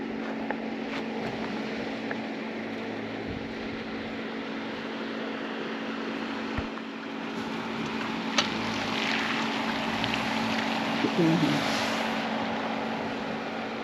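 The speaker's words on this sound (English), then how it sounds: "We was going to get a little bit of footage of driving through the snow." A Jeep drives along a snowy road at night, its engine a steady, fairly quiet hum with faint crunching and occasional small clicks and knocks, with no talk.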